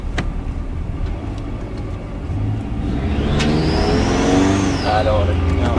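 A turbocharged Subaru FXT engine, recovering from flood damage, revs up in a rising sweep from idle, loud and close, with voices talking over the engine noise.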